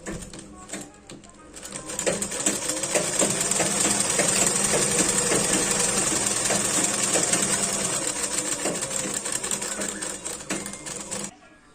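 A sewing machine stitches the lining pieces of handmade winter socks in a fast, steady mechanical rattle that starts after a brief pause and runs continuously before stopping abruptly at the end.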